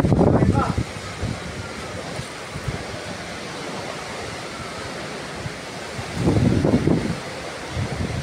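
Strong outdoor wind buffets the microphone in broad rushing gusts, loudest at the start and again near the end, with voices talking faintly underneath.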